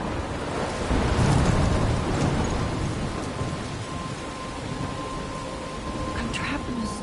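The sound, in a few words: storm with rain and thunder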